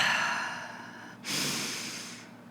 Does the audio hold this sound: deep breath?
yes